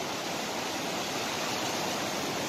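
The Bregalnica river, swollen after heavy rain, rushes past in a dense, unbroken roar of flowing water that stays loud and even throughout, with no voices.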